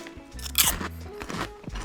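A few sharp, close crunches of wasabi potato chips being bitten and chewed, loud and crisp against a quiet background.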